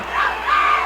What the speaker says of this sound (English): the crowd screaming for Ken Patera